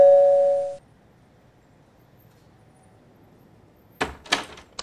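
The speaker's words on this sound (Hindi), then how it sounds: "अभी डोरबेल बजता है तो मेरे को डर लगता है कि कहीं तेरा और प्रोडक्ट्स ना आए।" A doorbell gives one clear ringing tone at the start that fades out after under a second, then a quiet pause, then a burst of knocking or door-handling clatter near the end.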